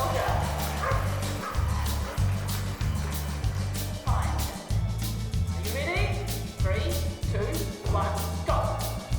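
Dogs bark and yip at an agility competition, short sharp barks scattered over a loud, steady background of music and commentary with talk throughout.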